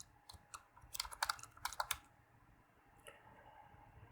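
Soft, quick clicks of typing on a computer keyboard come in a short burst of close keystrokes, followed by a pause and a single last tap.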